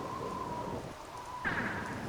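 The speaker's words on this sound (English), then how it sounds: "Wait, is it still raining?" Steady rain hiss in the Minecraft Tekkit world, a constant soft wash of drops with a brighter patch of noise near the end, moderately quiet with no talking.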